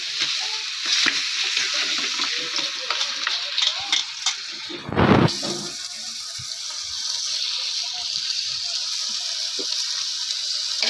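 Turmeric-and-salt-rubbed mutton sizzling and frying in a pan, a steady hiss broken by scraping stirring strokes and one louder clatter midway.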